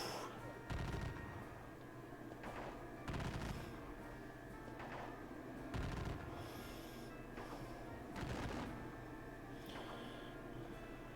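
Musket volleys and artillery fire in a Napoleonic battle video game at Aspern-Essling, several loud booming shots spaced a couple of seconds apart over a constant rumbling background.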